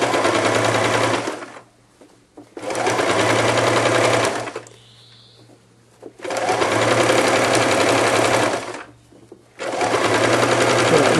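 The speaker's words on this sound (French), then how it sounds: "Et continuons le piquage." A sewing machine stitches a fluffy neck warmer in four loud, close bursts of rapid needle hammering, separated by short quiet pauses.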